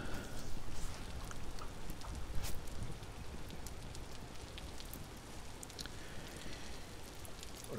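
Steady rain falls in the survival game Vintage Story, a dense even hiss with scattered drops and patter, close and continuous throughout without speech.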